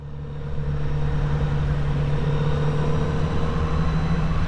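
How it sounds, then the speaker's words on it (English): A group of Kawasaki Z motorcycles, including ZRX, Z1100, Z900 and modern Z1000 models, riding up a road in a car park, a steady low engine rumble that swells at the start and holds, with no talking. "a fleet of Kawasaki Zs rolling up the road behind me"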